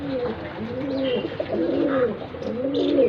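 Punjabi pigeons coo close by in a loose run of three or four throaty, rolling calls over faint background noise.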